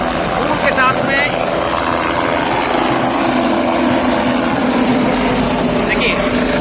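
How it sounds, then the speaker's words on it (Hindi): A helicopter lifts off from a village wedding gathering, its engine and rotor making a loud, steady, close drone with voices talking over it. "आप सामने देख सकते हैं हेलीकॉप्टर ने उड़ान भर दी है"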